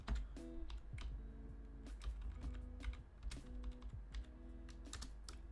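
Continuous brisk typing on a computer keyboard, close and clear, with irregular clusters of sharp key clicks and occasional heavier strokes over a low hum.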